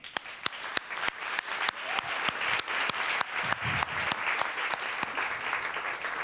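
Applause from a talk audience welcoming a speaker, steady crowd clapping at moderate level, punctuated by a regular series of sharp, distinct claps standing out from the rest.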